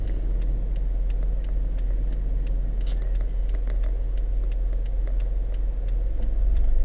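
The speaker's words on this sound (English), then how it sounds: "And it just happens to be traffic now at this point." Steady road traffic with a continuous low engine rumble and tyre noise, plus faint regular ticking throughout, the rumble swelling slightly near the end.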